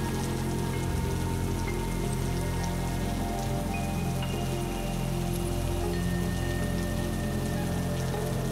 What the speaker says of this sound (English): a gentle shower soon evolved into an unyielding downpour